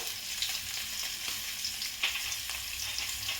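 Potatoes fry in hot oil with salt, turmeric and Kashmiri red chili for khichdi, giving a steady close sizzle with occasional soft stirring scrapes and no talk.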